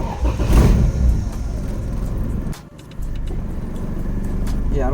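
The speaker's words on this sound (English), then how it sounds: "I don't know why it would cut off like that from me revving." A car engine revs after a throttle cable adjustment, a loud close rev that drops out abruptly midway as the engine cuts off, then a steady running drone resumes.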